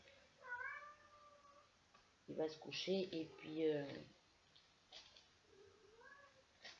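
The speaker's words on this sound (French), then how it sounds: "qui miaule parce qu'elle supporte pas que la porte soit fermée" A domestic cat meows repeatedly at a closed door indoors, a few short plaintive calls near and fairly soft, while someone speaks French in between them.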